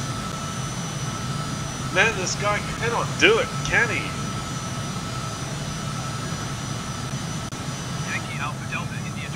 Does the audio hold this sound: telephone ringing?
no